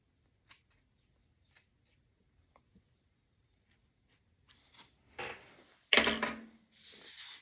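Scissors snipping synthetic wig hair close by: a few faint isolated clicks at first, then louder crisp cuts and rustling strands toward the end, with no talking.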